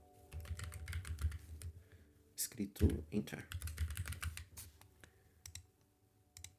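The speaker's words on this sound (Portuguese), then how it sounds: "Eu não sei se vocês vão ficar ouvindo meu teclado ele é bem chatinho, barulhento assim" A noisy computer keyboard clatters with bursts of rapid, close key clicks, a few louder clacks among them, while a person speaks at times over the typing.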